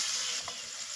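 Steady hiss of Bombay duck frying in a pan for curry, close and continuous sizzle with no voices.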